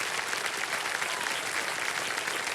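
A studio audience on the game show Kaun Banega Crorepati gives a standing ovation, with dense, steady clapping that fills the room throughout.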